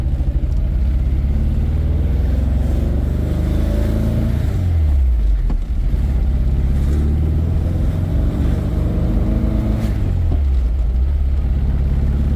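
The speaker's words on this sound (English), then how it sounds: "we're going on a quick test drive here." A 1973 Porsche 914's engine drones steadily and loud from inside the car on a test drive, rising and falling through revs with two clear drops around gear changes, no talk over it.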